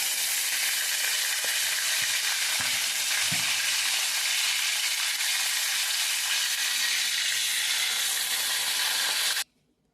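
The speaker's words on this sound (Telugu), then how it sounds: "ఇగోండి చేపలు అయితే వేసాను నూనెలో వేసి" Salted dried fish frying in hot oil gives a loud, steady sizzle and hiss that runs unbroken for almost ten seconds, with a few soft low knocks near the start, then cuts off abruptly.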